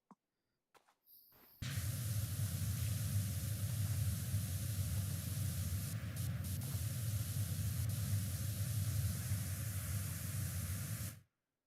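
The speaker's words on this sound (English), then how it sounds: "I think I just need to spray that tops these two nooks." A pressure washer sprays continuously in PowerWash Simulator, a loud, steady hissing jet that starts abruptly after a couple of faint clicks and runs unbroken for about ten seconds before cutting off.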